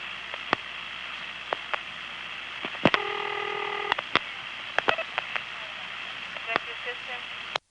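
Telephone calling tones on a 1976 line between Manassas and Occoquan, Virginia: clicks, a cluster of touch-tone dialing chirps, then further scattered clicks over a steady hum, close and clear.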